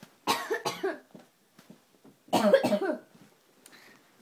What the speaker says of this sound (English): I've never coughed like that before